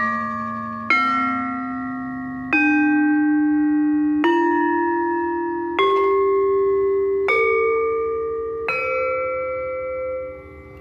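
A Javanese gamelan demung, a bronze metallophone, struck with a mallet: seven loud, ringing single notes about 1.5 seconds apart, stepping upward in pitch, each ringing out before the next.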